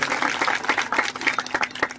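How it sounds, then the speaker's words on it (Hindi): An audience claps to welcome a newly elected state president at a community election gathering in Hoshangabad, with steady, dense applause throughout and scattered louder claps. "हमारे नवनिर्वाचित प्रदेश के अध्यक्ष जी का ताली बजाकर स्वागत करें"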